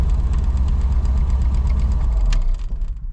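An old junker car engine with full-length headers idles with a deep, uneven rumble and rhythmic ticking knock, close by, before the sound dips and stutters at the end.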